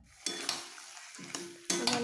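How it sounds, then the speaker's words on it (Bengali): Spice paste of chilli, salt, turmeric, coriander leaves and red chilli powder for chicken curry sautéed in a pan, sizzling loudly in bursts as it is stirred and scraped. "ভালো করে কষিয়ে নিচ্ছি।"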